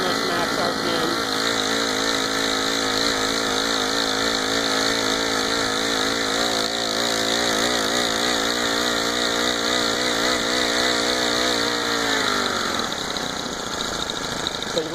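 A Honda GX25 four-stroke engine on a motorized bicycle runs near maximum RPM, a loud steady buzzing drone heard up close while riding at about 20 mph, then dropping in pitch as the throttle is released. Someone speaks over the engine noise.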